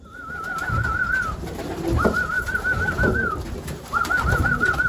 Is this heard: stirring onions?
no